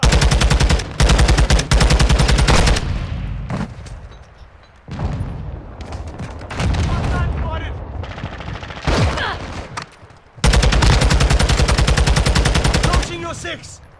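Heavy automatic gunfire from a Call of Duty: Modern Warfare II multiplayer match, loud sustained bursts broken by short pauses and booms, with brief radio-style voice callouts between volleys.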